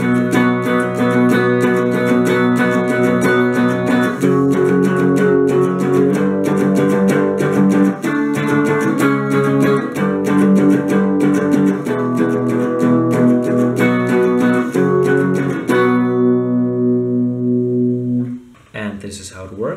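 A distorted electric guitar plays the intro and verse of a song, loud and steady with chugging rhythmic chords and palm-muted bursts throughout, ending in a brief ringing pause before a few quieter notes; no talking.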